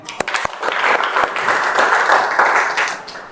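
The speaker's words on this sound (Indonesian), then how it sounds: "Oke ya, tepuk tangan ya." A group applauds after a talk on a line-following robot, starting with a few separate claps that quickly swell into steady, full applause that carries through to the end.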